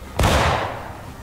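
A single loud musket-style gunshot in the Civil War battle game War of Rights, a sharp close crack followed by a rolling, fading boom with faint voices around it.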